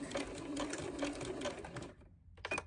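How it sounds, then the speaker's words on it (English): Sewing machine running steadily as it stitches a zigzag seam across fabric coasters, a close, continuous whirring hum that stops briefly near the end before a short final burst. "do my zigzag stitch. I go down once for my coasters and then I go back."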